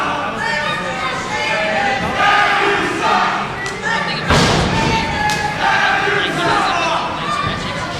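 A wrestling crowd at an IWC Revengeance 2 event roars and shouts continuously at McChesney, with chants and jeers close by and a heavy thud partway through.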